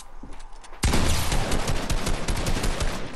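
Gunfire in Fortnite bursts in suddenly after a quieter start, then keeps going as a loud, continuous stream of rapid shots for the rest of the clip.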